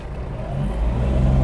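A Kubota GL-320 Japanese mini tractor engine with the throttle pushed wide open, making a loud, steady, rising mechanical drone heard close up with no talk.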